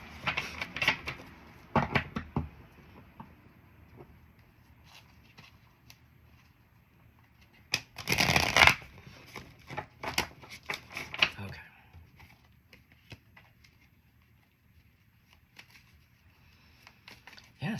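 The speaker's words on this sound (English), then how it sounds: "I'm gonna put all the cards back in, and then just do a shuffle" A deck of tarot cards being gathered and shuffled, giving light papery rustles and clicks with a louder riffle burst near the middle, close up and without talk.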